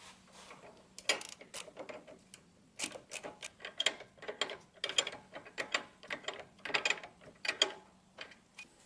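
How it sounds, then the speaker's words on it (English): Ratchet clicking in repeated short bursts while the nut on a sway bar link of a 2025 Ford F150 is tightened during a leveling kit install, close and fairly loud with brief pauses between strokes. "Next, we're going to put the nut on the sway bar link."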